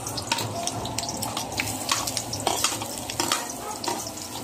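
Garlic and onion sauté in a pan for chicken Bicol Express, a continuous close sizzle with stirring scrapes, and what sounds like running water in the background.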